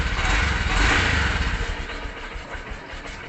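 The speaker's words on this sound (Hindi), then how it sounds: "स्टार्ट करके अगर हम 2-3 मरतबा रेस भी देते हैं फिर भी इसकी चाल रुकती नहीं है" Honda Shine FI BS6 motorcycle engine running close by with a steady, buzzing idle that swells slightly early on, then settles into an even drone without dropping off.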